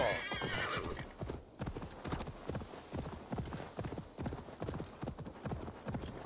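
A horse in Assassin's Creed Valhalla gallops with rapid, rhythmic hoofbeats that continue evenly throughout, opening with a high neighing whinny over the clatter.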